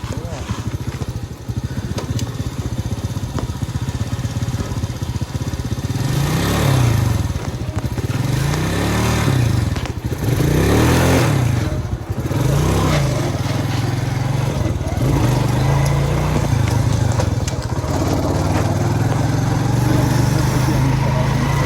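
A Mustang motorcycle engine is revved repeatedly nearby. Its loud rising-and-falling bursts of throttle come in an irregular rhythm over a rough idle, with voices faintly in the background.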